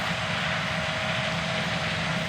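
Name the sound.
John Deere S670 combines harvesting corn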